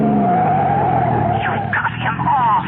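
Radio-drama sound effect of a car skidding off the road: a sustained, loud tire squeal with engine roar sweeping across a couple of seconds, heard alone without talk.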